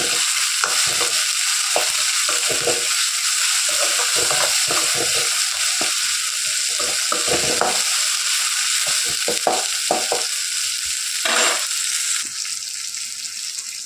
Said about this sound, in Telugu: టమాటాలను బాగా మెత్తగా మగ్గించుకోవాలి ఆయిల్లోనే